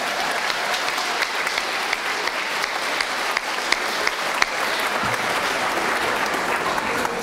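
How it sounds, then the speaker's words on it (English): Audience applause at a middle school spring concert for the 5th grade band, a dense, even roar of many hands clapping that holds steady and full throughout. "Let's have another round of applause for our outstanding 5th grade band"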